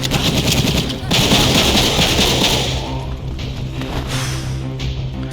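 Rapid gunfire in the Xbox video game Breakdown, loud, dense bursts with booming impacts over the first few seconds, thinning toward the end, with game noise and a voice speaking underneath.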